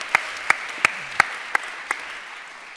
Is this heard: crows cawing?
no